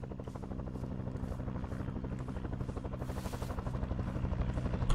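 Huey helicopter in the video game Arma 3, its rotor thumping in a fast steady rhythm with a constant engine drone that grows slightly louder and closer, heard alone without talk.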